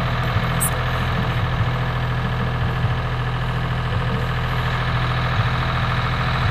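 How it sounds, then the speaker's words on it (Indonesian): A suction pump machine's engine runs continuously at a steady idle, a loud low mechanical hum with a faint regular throb, heard alone without voices. "penggunaan motor besar tadi, motor penghisap tadi, ada beberapa lagi motor penghisap penunjang"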